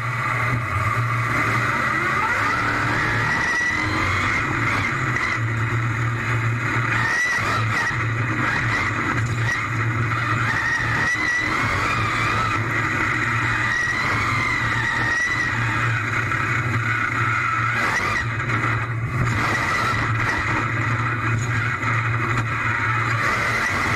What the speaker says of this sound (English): It was really cool seeing inside a real monster truck while it drives.